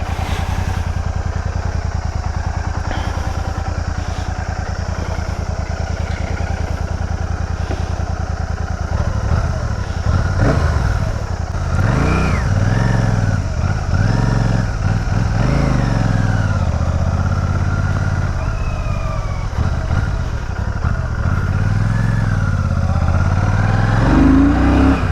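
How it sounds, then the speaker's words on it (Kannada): Royal Enfield Shotgun 650 limited edition motorcycle engine running loud and steady, settling from a smooth idle into rising and falling revs as it moves off, with no talking. "ಇವಾಗ ಗಾಡಿ ಓಡ್ಸಕ್ಕೆ ಹೋಗ್ತಾಯಿದ್ದೀನಿ ಸ್ನೇಹಿತರೆ."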